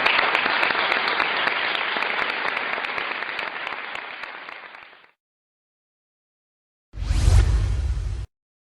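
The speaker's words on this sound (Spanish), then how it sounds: "Un aplauso de Torbato" A crowd applauds in a hall with dense, loud clapping for about five seconds that fades to silence. After a gap, a short burst of noise cuts in and stops abruptly.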